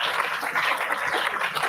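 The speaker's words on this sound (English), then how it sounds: "Please give a huge round of applause for Professor Kumar Pachikolagaru." Audience applause at a one-day international workshop on sustainable industrial pollution practices, greeting a professor called to the stage; steady dense clapping fills the short stretch at moderate level with no break.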